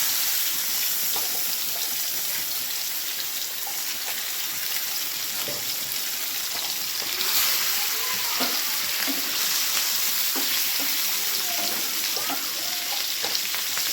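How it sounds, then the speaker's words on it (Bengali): Fish frying crisp in hot oil in a home kitchen, a steady dense sizzle throughout with occasional louder pops and spits, close and fairly loud, no talking. "তো আজকে কড়া করে মাছ ভাজবো"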